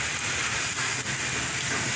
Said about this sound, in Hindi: झेलम में इस वक्त मूसलाधार बारिश हो रही है।